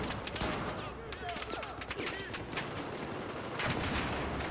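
Rapid bursts of gunfire in an indoor hallway firefight in Battlefield 4, dense overlapping shots at moderate distance, with a voice talking over them.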